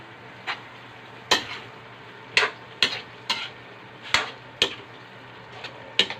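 Pancit canton with chicken being stirred in a pan: sparse, sharp utensil scrapes and clacks, about eight spaced strokes, fairly close over a low background hum, with no talking.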